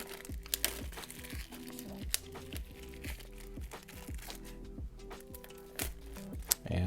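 Plastic wrapping on a Nothing Ear (1) earbuds box is ripped open from a pull tab, making close, quiet crinkling and rustling with a few sharp snaps and tearing bursts scattered through it, with no voices.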